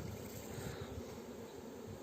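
Honey bees being gently shaken off a hive frame while a beekeeper checks for the queen, a dense, steady close buzzing hum from many bees filling the short moment, with no voices.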